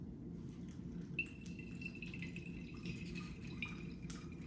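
Simulated rain dripping water onto soil, heard as soft, close drips and trickles over a steady low background wash, fairly quiet and with no talking.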